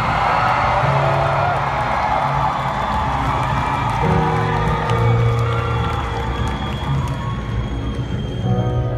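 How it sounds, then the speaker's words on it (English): A festival crowd at Firefly 2016 screams and cheers loudly and continuously in front of the stage, a dense roar of many voices that holds steady for the whole stretch. "Everybody scream as loud as you can for this flag that I'm holding in my hand right now."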